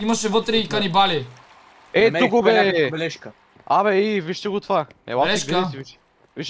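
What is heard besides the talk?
No distinct noise like a dog, phone or traffic.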